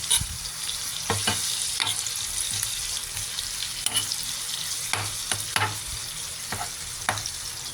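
Tomatoes sizzle steadily in a hot pan for a monggo topping. Soft clinks and scrapes from stirring break in at irregular intervals over the constant close frying hiss.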